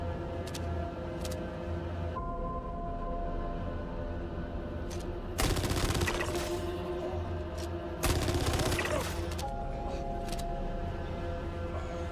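Gunfire from the Star Citizen video game breaks out in two short loud bursts over a steady droning background hum.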